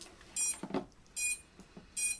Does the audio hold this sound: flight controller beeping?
yes